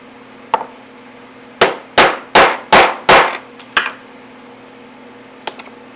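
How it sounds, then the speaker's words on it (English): A metal punch is hammered through leather on a poly board to make a rivet hole: one sharp tap, then five quick heavy strikes in a row, a lighter one, and a final faint double tap, each close and crisp over a low hum. "put my hole in there for my rivet while I have it good and snug"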